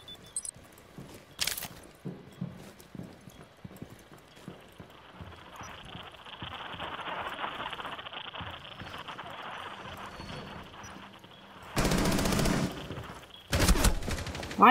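Video game gunfire cracks in a few sharp shots early on, then a long stretch of rapid rattling and clopping. Two loud, harsh bursts of fire close it out.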